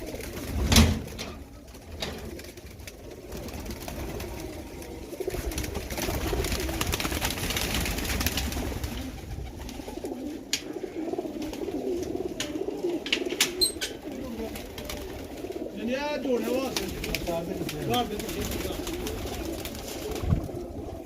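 Large pigeons in a fancier's flock coo steadily at close range, their soft repeated calls running throughout, with occasional knocks and faint background voices.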